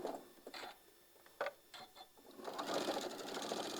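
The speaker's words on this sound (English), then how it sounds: "we are going to sew 1/4 of an inch all the way down one side" A sewing machine runs a quarter-inch seam along a table runner piece, starting with short stuttering bursts of stitching and settling into a steady close whir.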